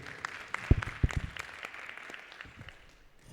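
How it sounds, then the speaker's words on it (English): A conference audience at an epidemiology session claps for itself, a brief, fairly sparse round of applause with a few loud close claps early on, then thinning out. "Let's clap for ourselves."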